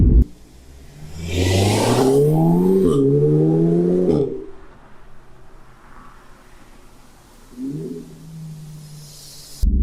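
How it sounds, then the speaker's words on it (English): A 2016 Audi S3 engine revs up strongly with a rising note, then a sharp break as it upshifts, followed by a quieter idle and a brief exhaust pop near the end. "a lovely fart from the upshift exhaust"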